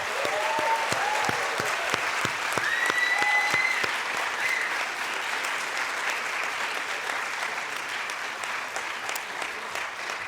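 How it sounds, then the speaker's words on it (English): A large graduation ceremony audience breaks into sustained applause for graduates' families and friends, dense steady clapping lasting throughout, with a few scattered whistles and cheers rising early on. "So let's give them a big round of applause."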